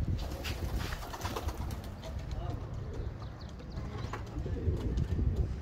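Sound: pigeons cooing

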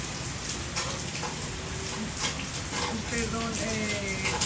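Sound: rain falling where a small hummingbird bathes

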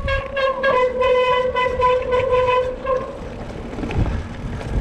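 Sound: mountain bike brakes squealing

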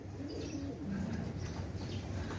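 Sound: pigeons cooing

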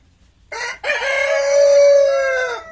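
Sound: rooster crowing and chickens clucking

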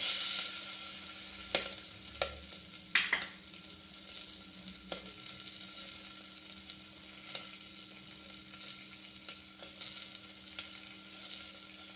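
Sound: green chillies frying in pan

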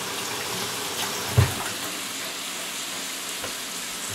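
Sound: water running from tap while washing hands

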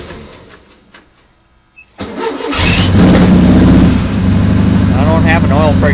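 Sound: car engine starting

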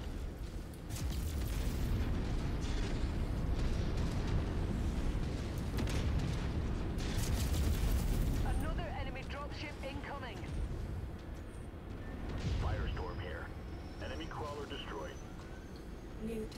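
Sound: explosions of a destroyed mech in MechWarrior 5 video game

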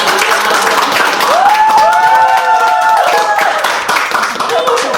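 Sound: audience clapping on cue

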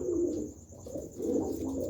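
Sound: pigeon cooing

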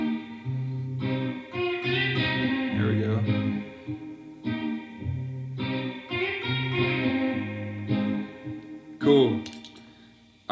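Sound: electric guitar lead lick with chorus and distortion effects

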